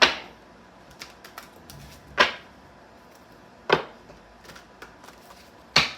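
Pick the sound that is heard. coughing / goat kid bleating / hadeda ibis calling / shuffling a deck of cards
shuffling a deck of cards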